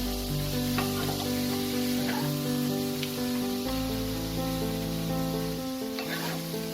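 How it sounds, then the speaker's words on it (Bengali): Grated carrots for gajar halwa are stirred in a pan over a medium flame, giving a steady, loud sizzle throughout with occasional scraping strokes of a spoon, close up and without voices. "গাজরটাকে ভালো করে আমাকে 10 মিনিটের মতো একটু নাড়াচাড়া করে নিতে হবে।"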